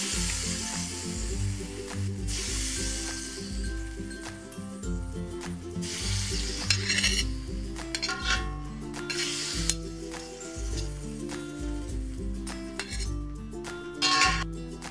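A metal spatula scrapes and clanks against a wok of stir-fried kale with mushrooms and bamboo shoots. Repeated scrapes and knocks sound over a steady sizzle.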